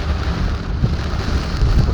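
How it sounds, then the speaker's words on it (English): Heavy rain pours down in Chicago, a loud, dense, steady wash of falling water with scattered low thumps and no voices. "it's coming down on sheets on the ground"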